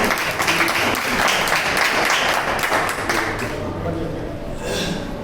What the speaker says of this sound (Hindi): और तालियों का थोड़ा सा प्रयोग करेंगे।